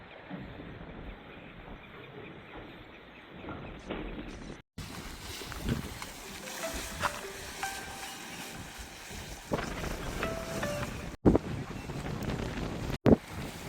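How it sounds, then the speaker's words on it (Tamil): Sea waves crash and surge against a dam spillway wall by a Mullaitivu forest, a continuous loud roar of churning water heavily buffeted by wind noise on the microphone, with sharp gusts near the end. "அலை வந்து அடிக்கிற அடி பெரிய சத்தமாக கேட்குது"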